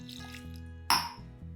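Water is poured into wheat dosa batter mixed with Bombay rava in a kitchen: a single short splash, close and fairly loud, over a steady low electrical hum.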